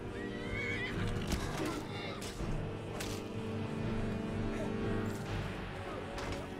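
A horse in the video game Skyrim whinnies loudly and close by, with hoof clip-clops and dense game sounds continuing throughout.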